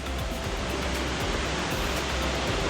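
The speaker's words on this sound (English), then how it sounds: "We have come right below the waterfall, where the water is dripping down" Steady broadband roar of a waterfall in Himachal heard from right below the falls, water pouring and dripping down continuously, close and enveloping with no voices.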